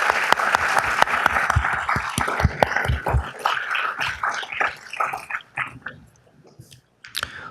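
A crowd at a Downey city council meeting applauds for a girls' team, the Lady Bears, with dense clapping that thins out and fades to scattered claps toward the end.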